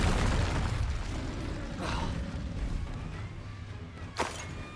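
Casting the Incendio fire spell in the Hogwarts Legacy video game gives a soft whooshing swell, then a sharp, bright burst near the end over a steady rumbling background.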